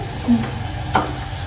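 Food frying in very hot oil in a Gujarati village kitchen, a steady close sizzle with a couple of brief clacks from stirring.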